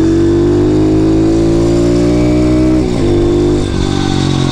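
A small road-legal Masai motorcycle engine, without a baffle, revs loud and close, its pitch climbing steadily, then dipping briefly twice as the throttle is blipped.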